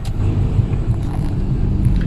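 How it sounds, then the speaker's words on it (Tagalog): Road traffic in Cagayan de Oro City gives a loud, steady low rumble of passing cars with wind noise, continuous and close, with no talking. "Traffic is real."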